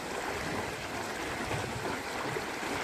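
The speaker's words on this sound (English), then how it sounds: "Oh, look! Raging waters." Raging waters of a waterfall along a desert trail at a warm springs natural area in Moapa, Nevada, a steady rushing roar, continuous and moderately distant, with no voices.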